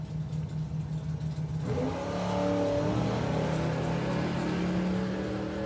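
A drag racing car on nitrous launches hard, engine idling low then surging into a loud, sustained rising roar that holds steady as the car pulls away.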